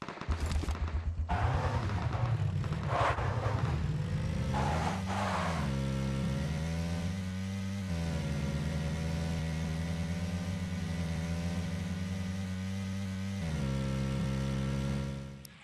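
Racing car engines roar in the mobile game Asphalt 9 Legends, loud and sustained, with revving pitch sweeps and bursts of impact noise early on before settling into a steady engine drone.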